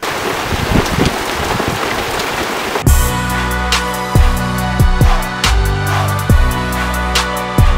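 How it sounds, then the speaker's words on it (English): Steady rain falls in a desert town, a dense hiss of drops with sharp rhythmic drips or taps striking a nearby surface every second or so, close and fairly loud with no talk. "Raining."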